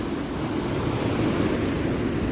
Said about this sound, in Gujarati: દરિયો ફૂલ તોફાને, ફૂલ.